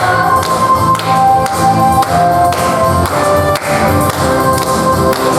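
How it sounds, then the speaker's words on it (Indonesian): Children at a Sunday school service clapping their hands along to a sung hymn, a loud regular beat of claps over the music throughout. "Tepuk tangannya ya"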